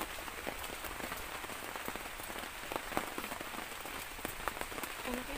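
Steady heavy rain drums on a taut tent roof overhead in a forest, a dense wash of patter with sharper drops standing out, continuous and close, with no voices.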